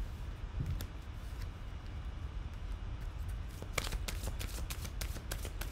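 Angel answer cards are shuffled and pulled from the deck, soft riffling at first, then a run of quick, crisp card flicks close up over a low background hum.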